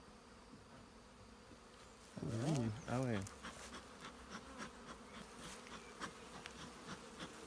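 Honey bees buzz softly and continuously around a hive during an acacia honey harvest, a faint droning hum; a person briefly speaks midway.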